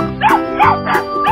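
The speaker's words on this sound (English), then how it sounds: "duck, chicken, rabbit, dog," A dog barks four times in a steady rhythm, the short barks loud and close, alone with no talk between them.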